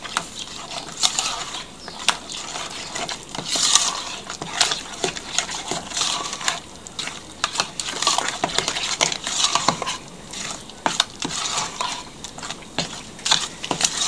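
A utensil scraping and clinking against a bowl while cheese filling is mixed with olive oil for a kosher-for-Passover lasagna, giving close, irregular bumps and taps that continue steadily throughout.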